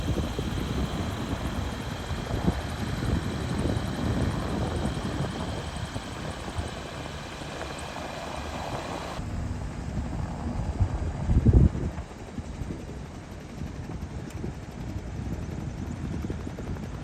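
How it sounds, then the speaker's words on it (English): Mark 26 Supermarine Spitfire coming in to land at an airfield near the town of Montrose, heard as a steady, distant aircraft drone mixed with wind noise, fairly constant throughout with a brief swell near the end. "my friend Ian Hutchison coming in to land in his Mark 26 Supermarine Spitfire"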